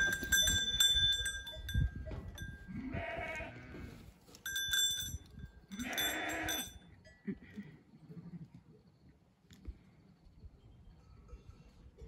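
Goats and sheep bleating in a farm flock, two loud close bleats over a background of small bells jingling and rustling, with quieter calls and faint movement afterward.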